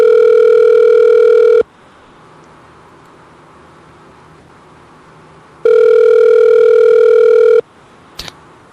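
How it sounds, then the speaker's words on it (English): A landline telephone at a winery rings close and loud in two long, steady tones separated by a few seconds of quiet room hiss, followed by a brief click. "answer the phone, Amy."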